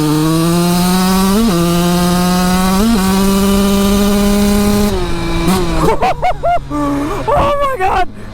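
A Honda CR125 two-stroke dirt bike engine screams up through the gears in quick speed shifts, each shift a brief dip before the pitch climbs again, loud and close, then breaks into choppy revs at the end.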